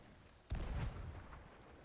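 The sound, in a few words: gunfire from a video game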